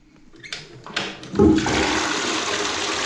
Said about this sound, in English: I'm not sure which is my full flush and my half flush